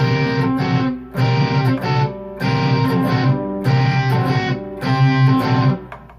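Distorted electric guitar strummed in a repeating riff, chords hit in short rhythmic bursts with brief gaps, loud and close, no talking.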